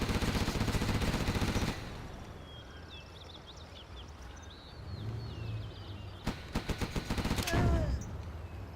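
Artillery and carpet bombing strike in a real-time strategy game match, with a burst of dense explosive fire up front, quieter rumbling and distant impacts, then rapid repeated blasts and another loud barrage near the end.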